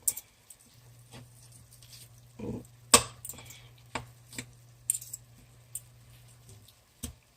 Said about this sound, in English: let me use the fork to shred it